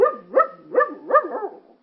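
A dog barks and yips four times in quick succession in a radio drama, the sharp close calls rising and falling with a whiny, slightly whimpering edge.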